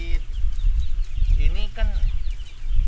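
Broiler chickens cluck and chatter inside a poultry house, several birds close by, heard under people talking.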